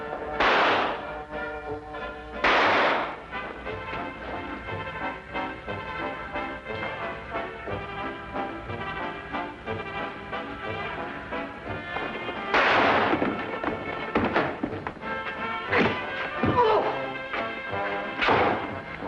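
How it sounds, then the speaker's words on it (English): Gunshots in a 1955 Sherlock Holmes TV drama sound as several loud, sharp cracks spread through a dense, busy mix, with the bursts near the start and toward the end. "Fire it, Holmes. Fire it"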